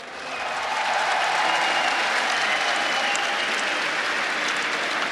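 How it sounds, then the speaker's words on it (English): A large esports crowd at the Season 2 European Regionals cheers for SK Gaming, a loud, dense and continuous roar of applause and cheering that swells in the first second and then holds steady. "let me hear you cheer for SK Gaming"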